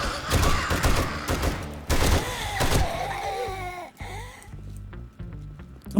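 Rapid gunfire in the zombie survival game 7 Days to Die, loud close bursts of shots mixed with groans and clattering impacts, thinning out toward the end.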